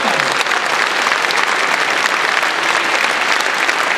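A large crowd applauds steadily at a Front National summer-university political rally, a dense, loud wash of clapping that holds through the whole stretch without any speech over it.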